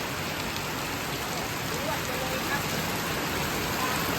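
Heavy rain pouring down a hill with floodwater rushing into a house during a storm, a dense, steady hiss of downpour and running water, loud and unbroken throughout.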